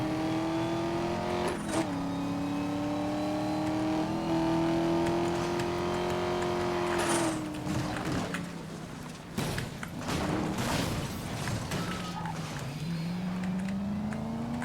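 A race car in Need for Speed Most Wanted (2012) roars along at speed, its engine holding a high steady drone with gear shifts and rising revs, loud and continuous with no talking.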